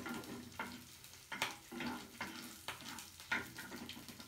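Vegetables for gobi Manchurian fry gently in a pan over a low flame, a soft sizzle broken by repeated stirring scrapes at an irregular pace, faint and close with no voices.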